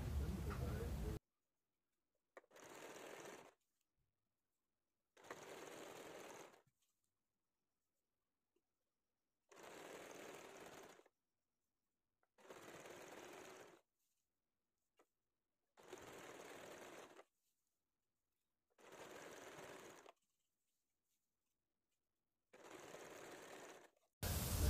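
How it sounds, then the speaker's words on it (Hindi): A sewing machine stitching fabric for a saree lehenga runs in repeated short bursts of steady whirring, each lasting a second or two, separated by silent pauses, close and clear. "पूरा मैं सीधा ये सिलाई लगा लूँगी।"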